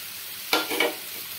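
Spice paste with a medium tomato sautéing on low flame, a soft background sizzle broken by two quick scraping stirs of a spoon in the pan, close but fairly quiet.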